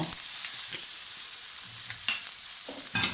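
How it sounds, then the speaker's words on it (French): Sliced red and green bell peppers and a small onion fry in olive oil in a pan, a soft steady sizzle with a few brief wooden spoon knocks and scrapes while stirring, close and with no voices. "avec la cuillère en bois, on vient mélanger"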